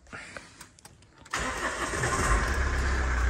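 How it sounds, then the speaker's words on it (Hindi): A car engine starts outdoors: a few faint clicks, then it cranks, catches with a sudden burst and settles into a loud, rumbling idle. "गाड़ी कर दिया अपना स्टार्ट"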